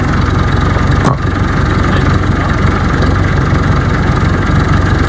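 A loader tractor's heavy diesel engine idles loudly and steadily up close, a constant low throb with one brief click near the start.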